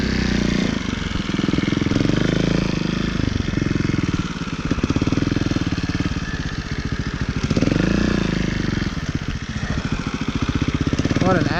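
A 2018 Beta Evo Factory 300 4T four-stroke trials motorcycle running close by, its engine chugging loudly and steadily with rises and falls in revs as it is ridden, a voice speaking over parts of it.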